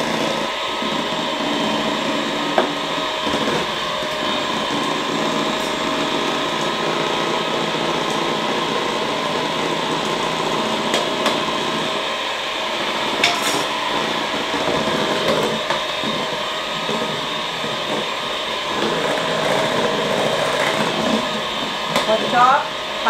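Electric hand mixer running steadily at low speed through banana cake batter, a continuous close motor whir with a voice talking intermittently over it.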